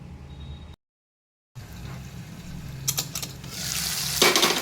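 Leafy greens (rada rudi, or vaseti bhaji) are stirred and cooked in a pan, giving a soft sizzle with light scraping. A short silent break comes early, then the frying grows louder and hisses more strongly toward the end.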